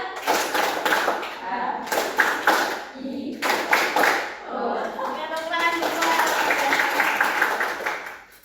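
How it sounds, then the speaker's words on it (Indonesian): A school class claps together in short counted bursts, loud and close, with a teacher's and students' voices speaking between the rounds of clapping. "Tepuk 1, 2, 3."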